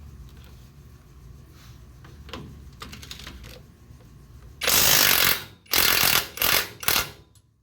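A big impact wrench on a factory stock vehicle build fires in several loud, rattling bursts near the end, following quieter shop clatter and handling noises.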